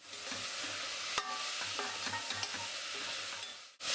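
Chicken biryani masala stirred and sautéed in a pressure cooker: a soft steady sizzle broken by repeated metallic scrapes and clinks of a spoon against the pot, close up, with no talking.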